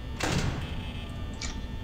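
A door thuds shut in the video game Five Nights at Freddy's: one close, mechanical sliding clunk, followed by a fainter click, heard over steady background hum with no talking.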